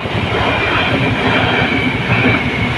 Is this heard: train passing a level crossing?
yes